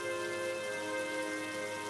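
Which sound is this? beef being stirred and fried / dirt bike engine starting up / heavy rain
heavy rain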